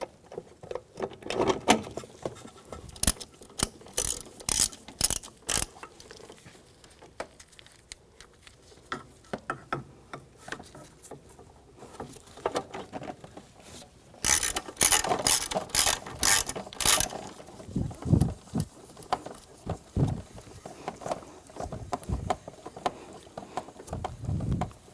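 A hand ratchet clicks in quick bursts while bolts behind the airbox are snugged down on a radiator of a 2010-2014 Volkswagen GTI 2.0 L4, close and sharp, with repeated runs of rapid clicks separated by pauses.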